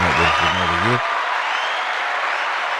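Audience applause from a podcast studio crowd: someone speaks briefly, then a sustained, even wash of clapping fills the rest of the moment.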